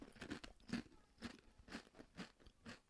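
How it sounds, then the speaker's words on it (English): Red pepper and hummus flavour crisps chewed right into the microphone, a series of about six crisp, rhythmic crunches spaced roughly half a second apart, close and quiet, with no talking. "I just realised I'm chewing right into the mic."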